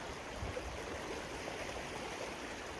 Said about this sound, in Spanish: la primer crecida del río Valparaíso acá desde el lado de San Mateo